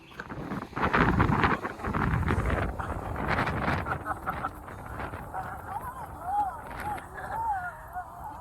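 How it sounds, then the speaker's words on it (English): Steady wind gusts buffet the microphone at a lakeside beach, roaring strongest early on and then easing to a lower rumble, while a person talks over it. "a little windy today"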